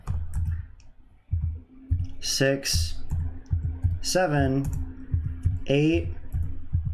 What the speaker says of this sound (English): I'm not good at typing.